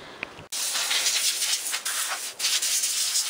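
A garden air compressor hisses in a steady, loud stream of air that starts abruptly after a brief quiet moment, broken by a couple of short dips and pulses.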